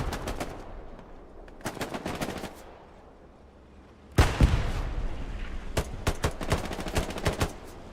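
Bursts of rapid gunfire crack out in the Hell Let Loose match on Omaha Beach, with several separate volleys and single shots at varying distances, a loud, dense cluster near the middle over a constant low battlefield rumble.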